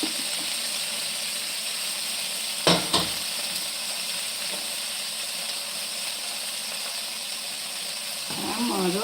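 Chillies fry in a pan with a steady, hissing sizzle that holds throughout, broken by a couple of sharp knocks near the three-second mark and a louder stir toward the end.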